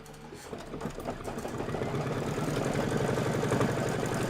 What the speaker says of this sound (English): go ahead and satin stitch it down